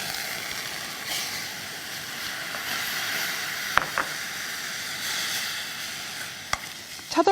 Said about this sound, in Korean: 그래서 육수를 조금 부어지거나 차가운 상태에서부터 볶을게요